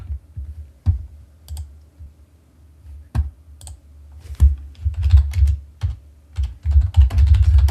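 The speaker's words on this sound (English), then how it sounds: "Oh, I was typing it." Fingers tap on a computer keyboard in irregular bursts of close clicks and clacks, getting busier and faster toward the end, with no talking.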